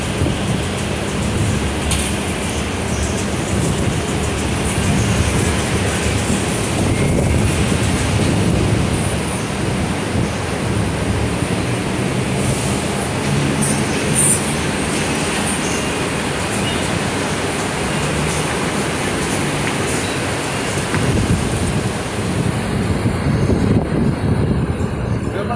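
A Jakarta MRT metro train moves at the Lebak Bulus depot, giving a steady loud rumble of rolling wheels with faint squeals, continuous for the whole stretch.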